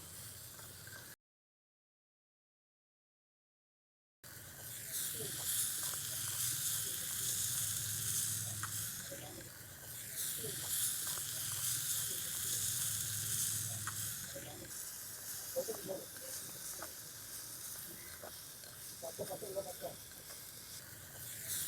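Homemade vathal sputters and sizzles loudly in hot oil, a close, continuous frying hiss with occasional crackles and stirring scrapes, broken by one short silent gap near the start.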